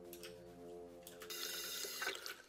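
A tap runs in South Park: The Stick of Truth, a steady close splash of water that swells louder and brighter about halfway through.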